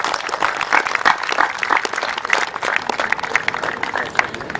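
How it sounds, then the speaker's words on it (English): An audience applauds at a launch ceremony, giving steady, dense clapping from a crowd that holds at an even level throughout with no speech over it. "all of you to give him a round of applause"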